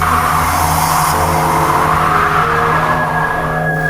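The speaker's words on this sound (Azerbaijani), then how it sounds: "Bu qəribə kənddən uzaqlaşmaq üçün qaza bastım." A car engine roars steadily and loudly, its pitch climbing as it speeds up.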